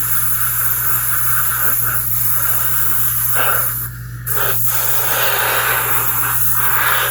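An airbrush or spray gun lays down a coat of lacquer on a quarter-scale Samurai Wolverine figure, giving a continuous close hiss under a low steady hum. The hiss cuts out briefly for a short pause and then resumes.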